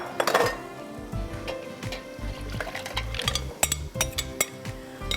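Paya (goat trotter) soup being strained at a kitchen counter, with metal clinks of a strainer and ladle against a pot, short taps and scrapes over a wet sloshing background, close and moderately loud.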